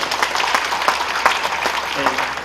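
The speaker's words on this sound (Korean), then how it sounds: "박수 한번 보내주시기 바랍니다" Applause from the congregation at a church memorial service marking Korean Presbyterian Day, dense clapping throughout with a voice speaking over it toward the end.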